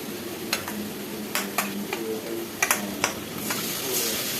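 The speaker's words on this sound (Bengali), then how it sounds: "এবারে আমি আদা রসুনের পেস্ট দিয়ে দেব" Ginger paste going into a pan of fried onions, giving a low steady sizzle broken by several sharp clicks and scrapes of a spoon stirring against the pan, close and moderately loud.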